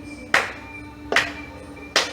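Three sharp single hand claps spaced evenly about three-quarters of a second apart, close and crisp over a quiet room with a faint steady hum.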